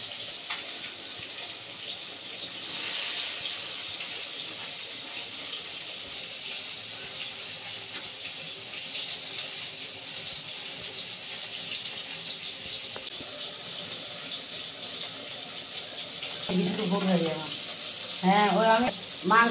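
Rohu fish frying in a pan, giving a steady hiss and sizzle that runs throughout, with brief louder splutters and a voice speaking near the end.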